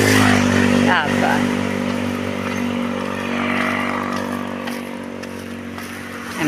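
Cars and a motorcycle speed past on a roadside lined with mango trees, a steady loud engine roar and rumble filling the whole stretch, swelling slightly as vehicles go by.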